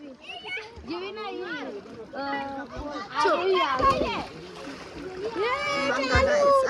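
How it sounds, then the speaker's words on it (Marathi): Water splashes and slaps repeatedly as a child plays, with children's excited voices and chatter running over the splashing throughout. "इथं उड्या मारून सगळं पाणी घालवते"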